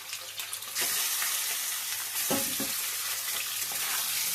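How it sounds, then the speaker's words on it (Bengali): Chicken pieces hit a pan of tempered spices and break into a loud, steady sizzle, with brief stirring scrapes partway through. "চিকেনগুলোকে ভালো করে একটু ভেজে নেব।"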